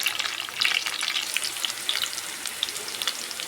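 Ginger fries in hot oil in a pan for a leafy-greens biryani, producing a dense, crackling sizzle that stays steady and close for a few seconds, with no one speaking.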